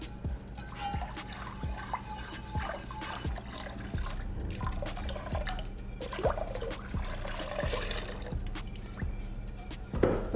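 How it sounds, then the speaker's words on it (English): A whisk stirs chicken broth into a pot of potato soup, giving repeated soft liquid sloshes and light taps against the pot at a fairly quiet level, with no talking. "Now I'm gonna whisk in the chicken broth."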